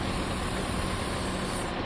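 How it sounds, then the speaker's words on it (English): A large tractor with a shovel works at a recycling facility, its heavy diesel engine rumbling and idling steadily at close range, with broadband machinery noise filling the background and no talk. "So this is all picked up with a large tractor with a shovel and placed onto the conveyor belt"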